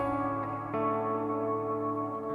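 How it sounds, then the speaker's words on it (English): A sustained musical tone with a rich, spacious reverb tail, sounding full and roomy, with a soft transient partway through and no talking. "the second one has a good amount of reverb on it"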